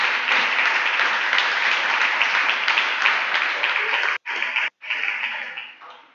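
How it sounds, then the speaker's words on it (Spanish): A church congregation breaks into loud, dense applause that holds steady, then cuts out briefly twice before fading toward the end, with some voices mixed into the clapping. "Si van a aplaudir, gloria a Dios."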